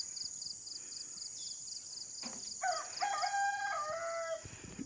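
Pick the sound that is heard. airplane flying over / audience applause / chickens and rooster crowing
chickens and rooster crowing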